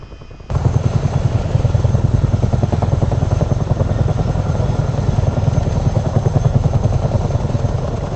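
Chinook twin-rotor helicopter in flight, a loud continuous rotor thump and engine roar that starts sharply and holds steady with a fast pulsing beat, no talk over it.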